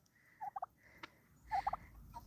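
A tom turkey gobbles twice on a homestead, each time a short burst of rapid warbling notes, fairly clear but not close, over a quiet background hiss.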